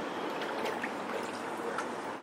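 A sanding block wrapped in wet sandpaper is dipped into soapy water, giving a close, continuous splashing and trickling of liquid that stops abruptly at the end.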